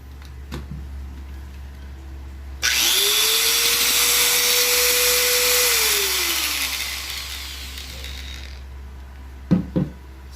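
An electric grinder runs from a homemade extension outlet, spinning up with a loud whine, holding steady for several seconds, then winding down. Faint clicks come before and after, and no one speaks.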